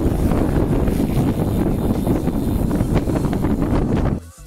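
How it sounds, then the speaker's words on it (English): Strong headwind buffeting the microphone during a ride on a Storck Visioner Comp G1 bike, a loud continuous roar of wind rumble that cuts off abruptly near the end. "Very strong headwind."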